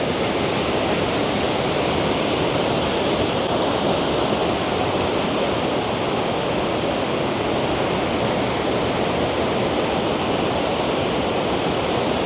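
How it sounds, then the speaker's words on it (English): Hog's Back Falls waterfall in Ottawa, a constant, loud rush of falling water heard close up as a dense, unbroken roar with no voices. "So I'm visiting the Waterfall in Ottawa"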